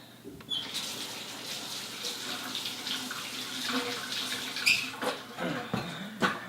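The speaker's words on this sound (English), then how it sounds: "I'm going to rinse my file real quick" A tap runs close by to rinse a metal file, a steady splashing rush of water with brief clinks and handling knocks toward the end.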